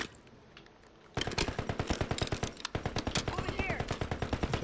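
Rapid bursts of automatic gunfire in the video game Warzone erupt after a quiet moment, loud sharp shots firing in quick rhythmic succession with a brief pause midway.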